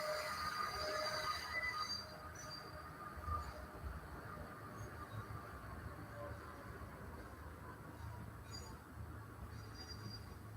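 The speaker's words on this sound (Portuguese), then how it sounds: "o trem, eu não sei se vocês estão ouvindo. O locomotivo está animada hoje." A locomotive-hauled train rumbles past at a distance, a low steady roar with faint metallic squeals and clanks rising and fading, no voices.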